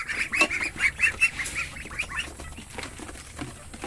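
Ducks on a farm quack and honk loudly in a noisy flock as food is put out for them, with overlapping calls in quick bursts.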